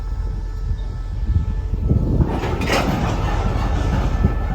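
A train pulling into Bua Yai Junction, Thailand, rumbles past close by, steady heavy rolling noise with a rising metallic screech partway through; no talking.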